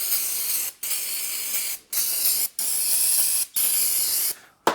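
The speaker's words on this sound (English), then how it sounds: "Let's degrease this thing a little bit for safe handling." Degreaser sprays onto a steel anvil made from a 100-year-old train rail, in five bursts of loud, close hiss separated by brief pauses.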